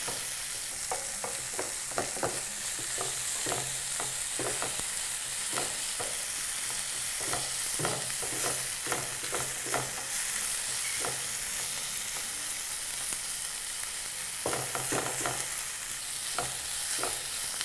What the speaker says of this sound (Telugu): అల్లం వెల్లుల్లి పేస్ట్ పచ్చి వాసన పోయేంత వరకు ఆయిల్లో వేగనివ్వాలి